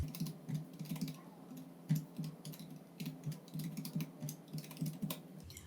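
Years being typed into an Excel list on a computer keyboard, soft quick key clicks in irregular bursts over a low steady hum, faint and close, with no speech.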